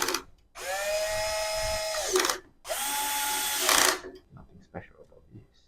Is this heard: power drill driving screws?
yes